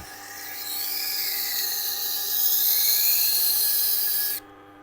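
A knife blade rides across a spinning resin bonded diamond wheel in a single steady pass, a thin sustained high whine that swells slightly and then stops abruptly.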